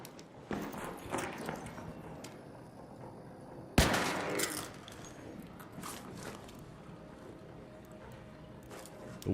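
Gunfire against ARC machine enemies in the ARC Raiders video game: a sharp loud burst near the middle among scattered softer shots and shuffling movement, with steady background game noise throughout.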